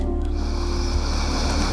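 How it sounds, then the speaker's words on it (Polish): A long, deep breath drawn in steadily through the nose or mouth during a Kundalini yoga practice, a close, continuous airy rush with no talking. "i po dwóch minutach weź głęboki wdech"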